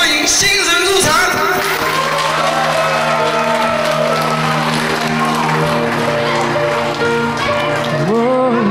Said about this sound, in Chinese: 现在让我们用热烈的掌声欢迎新人入场